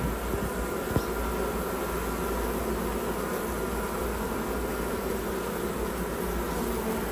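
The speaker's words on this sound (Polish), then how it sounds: "Pszczoły bardzo rozbiegane." Honey bees buzz in a dense, steady swarm around an open hive colony whose weak queens are laying poorly, an agitated hum close by and continuous throughout with no voices.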